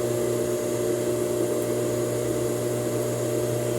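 A sewing machine stitches a seam on a blouse, giving a steady, close motor drone with a constant pitch and no pauses.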